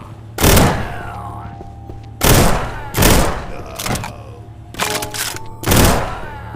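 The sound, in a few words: weapon gunfire in a VR zombies video game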